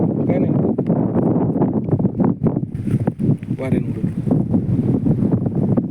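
Strong wind buffets the microphone in an open farm field, a steady roaring rush with gusty swells throughout, while a person talks over it.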